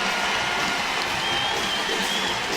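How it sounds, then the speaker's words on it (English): Capacity arena crowd at an LSU versus South Carolina college basketball game roaring and applauding as the first quarter ends, a dense, steady wash of cheering and clapping that holds level throughout. "the crowd comes to its feet"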